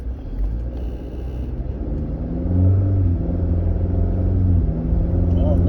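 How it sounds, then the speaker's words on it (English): A truck engine idling and rumbling loudly, a deep steady low drone that swells and grows heavier partway through, close by, with a voice faintly audible over it. "My truck running kind of loud,"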